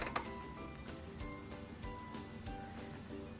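Hand wheel of a Singer 3333 sewing machine turning, a quiet, steady mechanical whir with faint repeated ticks and clicks from the gears.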